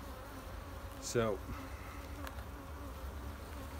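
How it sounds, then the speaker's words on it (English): Honey bees swarm over hive frames during a mite check, giving a faint, steady buzz. One bee flies close by and makes a brief, louder passing whine, and a voice speaks a single short word. "Look at the bees that are all over that."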